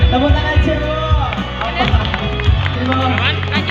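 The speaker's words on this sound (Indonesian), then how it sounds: "Tepuk tangan semua." Crowd at a live Minang song performance clapping and cheering loudly, with whoops and a steady rush of applause that fills the short stretch from start to finish.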